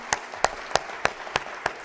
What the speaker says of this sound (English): Claire, we're going to give you a round of applause